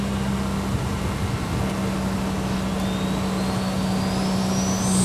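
A Datsun 240Z fitted with a turbocharged GT-R engine accelerates on track. A loud, sustained engine drone rises steadily in pitch from close by, with no talking.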